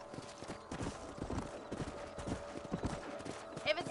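Horse hooves clip-clopping in Red Dead Redemption, a brisk steady trot heard close, with faint in-game voices underneath.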